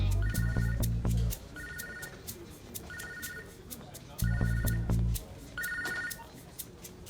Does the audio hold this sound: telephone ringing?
yes